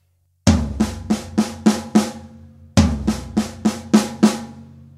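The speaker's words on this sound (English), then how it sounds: "And then moving that down to the floor tom for the next part." A tom-heavy paradiddle-diddle drum fill played twice, a deep floor tom hit leading into evenly spaced snare and tom strokes, loud and close.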